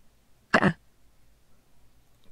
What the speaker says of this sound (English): She just coughs.